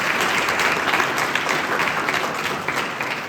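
Audience applauding the winning team at a Constitution quiz at an academy in Palanpur, a steady, dense patter of many hands clapping at moderate loudness without a break.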